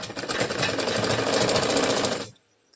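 A sewing machine runs a continuous fast stitch on a princess-cut puff-sleeve blouse, joining a strip, with a rapid close mechanical whir for about two seconds before stopping abruptly.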